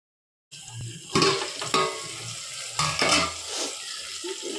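Tomatoes for tomato rice frying in a pan, a close sizzle with several bursts of stirring and scraping against the pan after a brief silent start.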